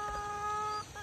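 A rooster at a rural home gives a brief, steady tonal call, moderately near and fairly quiet, lasting about a second, with no talking.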